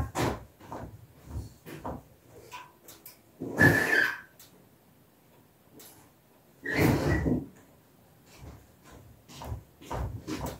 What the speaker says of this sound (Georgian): ჯერ მაგისთვის საჭირო კარი უნდა გავხსნა